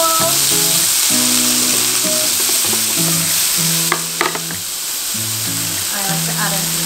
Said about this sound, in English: I'm going to saute the chickpeas. So put in about a tablespoon of olive oil.